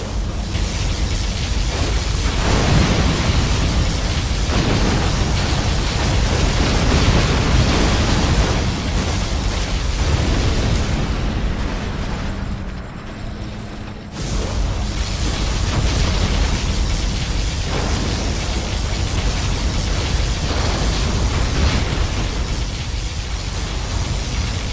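In the Command & Conquer Generals Zero Hour video game, a particle cannon fires as a loud, continuous roaring blast that rumbles on for over twenty seconds, dipping briefly midway.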